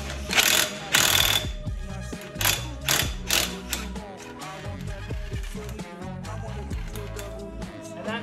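An impact wrench drives a new wheel stud on a Toyota Soarer/Lexus SC400, giving a close, loud mechanical rattle of hammering bursts, first sharp and spaced, then a steadier buzzing run.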